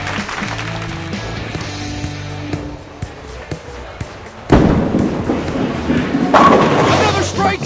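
A virtual bowling ball crashes into the pins for a strike in the mobile game Bowling King, a loud burst of clattering and booming that swells near the end over game music and cheering.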